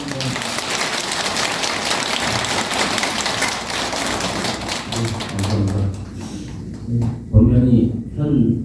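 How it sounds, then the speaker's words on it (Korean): A Buddhist temple congregation gives a welcoming round of applause for a monk, steady clapping from a roomful of people that tapers off as voices take over near the end. "우리 현광 스님한테 전부 환영의 박수 한번"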